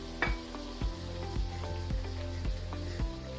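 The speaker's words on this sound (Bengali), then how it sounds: "ওর পর্যায়ে আমি দিচ্ছি ফালি করে কাটা পেঁয়াজ" Sliced onions go into chicken cooking in a pan for a Bengali-style Chinese vegetable dish, giving a soft sizzle with a regular thumping rhythm from nearby equipment and no talking.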